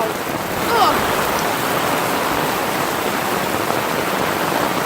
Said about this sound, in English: Rainforest in a hurricane is wet.